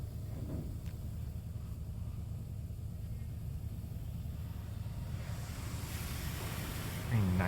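A PDQ LaserWash 4000 automatic car wash coats a car in pre-soak, heard from inside as a steady, muffled rushing hiss over a low rumble, brightening into stronger spray near the end.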